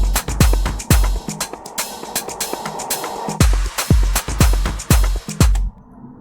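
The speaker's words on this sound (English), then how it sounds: "downshifter and an uplifter" Dense Afro House drum loop with kicks, hi-hats and percussion, joined by a swelling uplifter and downshifter sweep effect running underneath, ending in a brief filtered tail.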